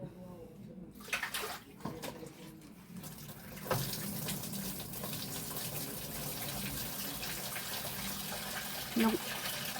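Water runs steadily from a tap, a continuous splashing rush that fills the clip after a few scattered knocks and clatters at the start.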